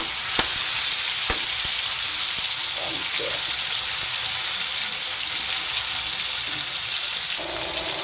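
Meat fries in a pan with a loud, steady sizzle and crackle throughout, a few sharp pops, and a brief spoken word near the start.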